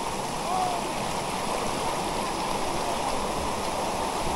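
Clean village stream flowing: a continuous broadband rush and gurgle of water, steady and fairly near, with no breaks.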